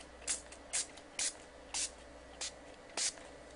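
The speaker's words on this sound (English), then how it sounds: "So, all you do is spritz." Musicnomad spray cleaner is spritzed in six short, sharp bursts spaced at a fairly even rhythm, close but quiet, with no one talking.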